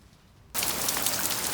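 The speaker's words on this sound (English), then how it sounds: "This stupid rain." Rain suddenly starts pouring, a dense loud hiss of drops hitting surfaces that begins abruptly after quiet and stays steady to the end.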